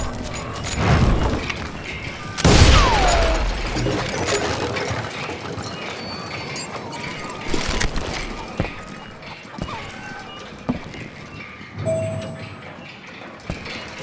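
Gunfire from the Western shooter game Call of Juarez Gunslinger, with several sharp shot transients scattered through a busy, layered game soundscape.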